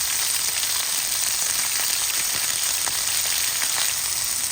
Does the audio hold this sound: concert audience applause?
no